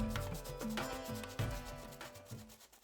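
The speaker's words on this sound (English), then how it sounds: "here I found myself sanding some more" Rhythmic rasping strokes of sanding on wood, close by, repeating at a steady back-and-forth pace.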